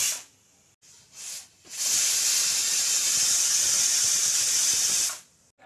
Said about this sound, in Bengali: আর সিটি দিলাম 2-3টা।